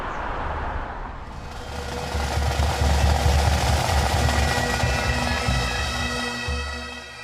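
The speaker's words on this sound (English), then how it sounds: "We actually had a flyover as well, 5 helicopters moving overhead." A deep, throbbing rotor thump builds from a distance and swells overhead as five helicopters fly over a deputy's funeral, droning loudly together with no voices.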